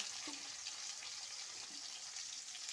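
Onion with curry leaves, cumin and green chilli frying in a pan, a soft steady sizzle with faint stirring scrapes, continuous and fairly quiet, with no voices.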